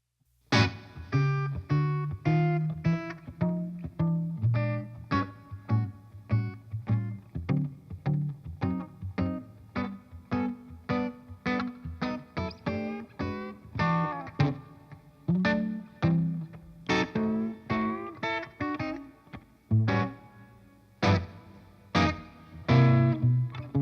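An electric guitar plays a bluesy line over a walking bass, notes plucked in a steady stepping rhythm, close and clear with no voices.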